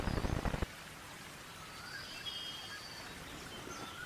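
Steady rain falls through a monsoon downpour, a soft continuous hiss with a few faint bird calls far off, preceded by a brief louder burst of rustling patter.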